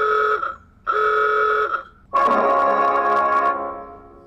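A Tesla Boombox plays its old-style replacement horn sound through the car's external speaker: two steady buzzy honks, then a longer, brighter, harsher honk that fades out, loud and close with no voices.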